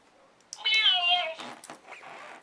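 A toy cat gives a single electronic meow, close and fairly loud, with a drawn-out falling tone followed by short trailing chirps.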